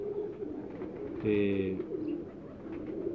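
Pigeons on a Faisalabad rooftop loft give a brief cooing burst at moderate distance, heard briefly over a steady background hum, with someone speaking.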